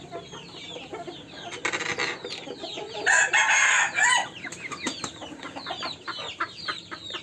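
Several three-month-old European silkie chickens cluck and chatter close by, with a louder crowing burst midway rising above the steady flock noise.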